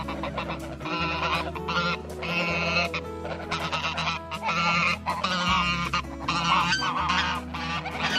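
Geese honk loudly and continuously at close range, a dense overlapping chorus of harsh calls with steady low background noise beneath, no talking.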